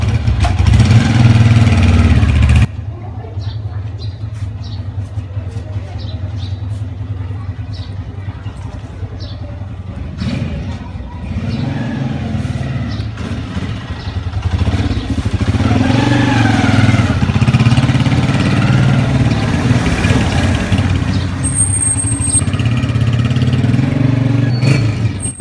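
Motorcycle engine running steadily as the bike is ridden, a continuous close mid-pitched drone with small shifts in revving and no talk over it.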